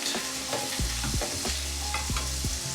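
Onions and garlic fry in a pan with a steady, close sizzle, broken by several rhythmic scraping strokes as they are stirred, with no voices.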